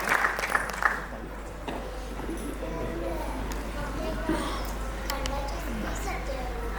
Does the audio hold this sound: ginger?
no